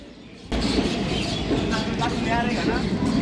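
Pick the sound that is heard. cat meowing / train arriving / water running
train arriving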